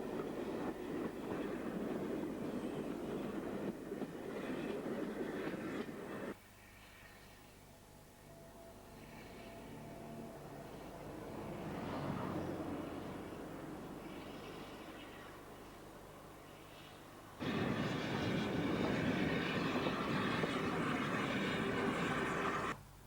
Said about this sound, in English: the Esk is accompanied on its journey by a steam railway